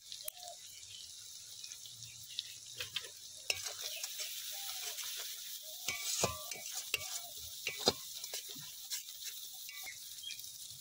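Spices with crushed kasuri methi and almonds frying in a pan, giving a faint, steady sizzle with scattered light stirring scrapes and taps throughout, without any voices.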